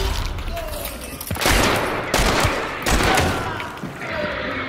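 Gunfire in the Hunt Showdown video game booms close by as a rapid burst of heavy shots, thudding several times over a couple of seconds amid loud surrounding rumble.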